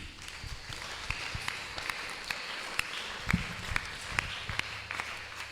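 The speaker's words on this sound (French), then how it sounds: "nous gagnons un frère qui visite nous et on nous applaudit" Congregation applause in a Baptist church during Sunday worship, welcoming a first-time visitor: scattered, fairly soft hand claps from a gathering, with a few sharper individual claps standing out over a low murmur.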